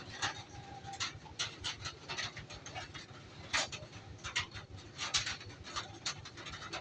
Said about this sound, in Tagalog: Ayan, may kasama silang tuta.